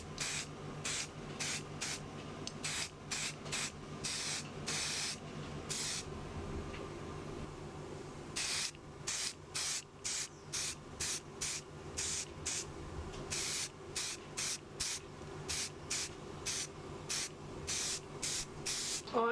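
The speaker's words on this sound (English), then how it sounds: "We'll just give it its coat of black now." Aerosol can sprays black paint onto a gearbox in a rapid series of short, sharp hissing bursts, with longer pauses in the middle and a steady rhythm of close, loud puffs afterwards.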